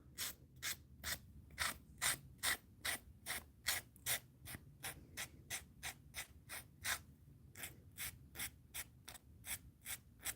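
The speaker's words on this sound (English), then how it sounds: "Just smoothly, a very, very fine nail file here." A very fine nail file rubs along the edges of a leather booklet in quick, even strokes, roughly two to three rasps per second, close and fairly quiet, with no voices.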